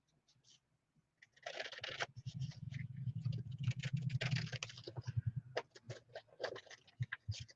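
Scissors snipping out a rice paper butterfly image, a dense run of quick close crisp cuts and rustles, then a few separate snips as it tails off.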